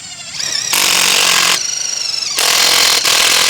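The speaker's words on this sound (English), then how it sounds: "We're gonna take a Tech screw and go right into the ground stake." A power driver sinks a Tech screw into the ground stake of a 20-foot Dakota greenhouse in three loud, close bursts of high whirring, separated by brief pauses.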